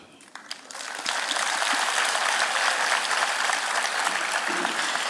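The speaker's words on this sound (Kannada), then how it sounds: "ಇನ್ನೂ ಜೋರಾಗಿ ಚಪ್ಪಾಳೆ ತಟ್ಟುವಂಥ ವಿಷಯ ಇನ್ನೊಂದು ಹೇಳ್ತೀನಿ." An audience claps loudly and steadily at a Kannada talk on the Ramayana and the Bhagavad Gita, building from a few scattered claps into dense, sustained applause.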